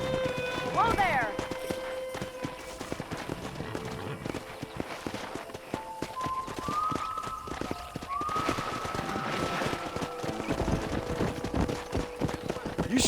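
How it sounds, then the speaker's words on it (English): Horses gallop with quick clip-clop hoofbeats across open terrain in the video game Red Dead Redemption, heard alongside game music and spoken voices. "there's a pack of wild horses nearby"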